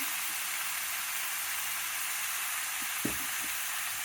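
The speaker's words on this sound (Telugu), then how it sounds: "ఇప్పుడు బీరకాయ వేసుకుంటున్నానండి." Ridge gourd pieces frying in a pan, a steady faint hiss of sizzling oil throughout with a single soft knock of a utensil near the three-second mark.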